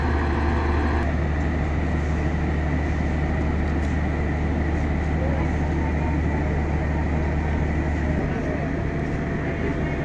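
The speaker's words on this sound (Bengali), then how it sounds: "জয়দেবপুর স্টেশন থেকে অল্প কিছুক্ষণের মধ্যে স্টেশনের থেকে ট্রেনটি ছেড়ে যাবে।" A train waiting at Joydebpur station shortly before departure gives off a continuous low, rumbling hum, with voices and general station noise mixed in.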